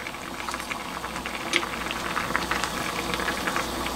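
Rice cake soup broth bubbling at a steady boil in a pot, a continuous close simmering rumble with occasional louder pops, no talking.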